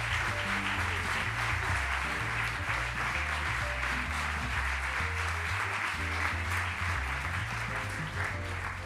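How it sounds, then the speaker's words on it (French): Audience applause for a minister at a Liberal party 180th anniversary celebration, sustained clapping over steady background music, fairly even and moderately loud throughout. "Et on peut l'applaudir bien fort"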